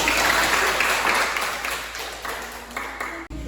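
Classroom audience applauds after a group presentation, a dense burst of clapping that starts loud and gradually thins out over a few seconds.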